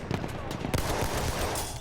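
Gunfire from a World War 1 weapon in the video game Battlefield 1, dense and continuous with sharp transients throughout, loud and close amid busy battlefield noise.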